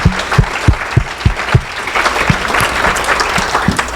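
Applause at the 2015 AOA National Fleece Show awards honouring the show superintendents, heard as loud, distinct claps, some sharp and separate, over a steady low hum for about four seconds.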